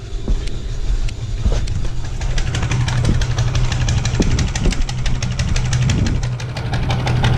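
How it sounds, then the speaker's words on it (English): A wood chipper's small engine runs steadily with the choke on, a rough, knocking idle with rapid rattling pulses, close and continuous throughout without any talking. "It is running with the choke on."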